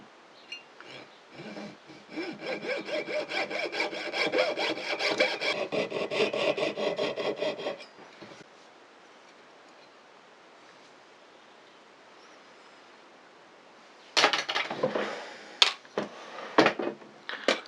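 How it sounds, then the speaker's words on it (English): Jeweler's saw cutting the corners of a silver buckle, a fast rhythmic rasping of short strokes for several seconds, close and clear, followed by quiet and then a few scattered scrapes and taps. "I'm going to saw these off now with a jeweler's saw."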